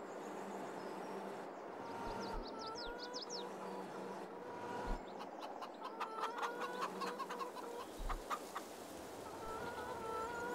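Chickens cluck and squawk in a Farming Simulator 22 farmyard, several short bird calls scattered over a quiet low ambient hum, with a few soft thumps.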